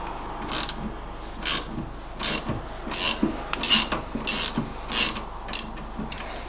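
A ratchet wrench loosens the upper trunnion bolt on an MGB front suspension with short bursts of ratcheting clicks and metallic rasps separated by brief pauses, close and fairly loud.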